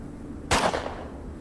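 A single sharp pistol shot rings out in the Atom RPG video game, an abrupt close crack with a short tail of decay against a quiet background.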